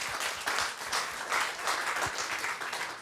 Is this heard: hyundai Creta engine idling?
no